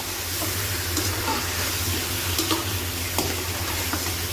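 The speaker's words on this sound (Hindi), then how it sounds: "अभी हम इसे फ्राई कर रहे हैं।" Chicken frying in a karahi for a white chicken karahi, a dense steady hiss and sizzle with a low hum beneath and a few faint clinks, constant and close throughout.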